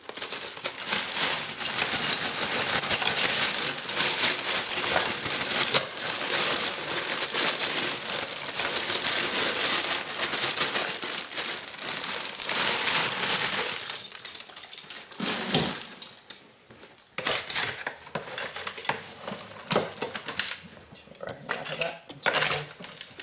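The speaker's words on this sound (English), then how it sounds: "We need to add 4 cups of ice." Ice cubes clatter and rattle into a bowl of salted cucumber and onion slices for garden pickles, a dense, busy jangle that runs close and loud for a long stretch, then thins into scattered knocks and shifting sounds.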